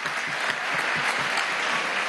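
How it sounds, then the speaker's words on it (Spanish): A crowd at a political assembly with community councils breaks into continuous applause, a full, dense roar of clapping sustained throughout without any speech over it. "un aplauso"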